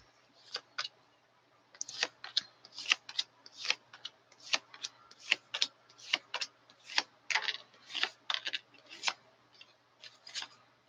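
Tarot cards are shuffled in quick, crisp bursts of riffling and snapping, repeated irregularly at close range in a quiet room.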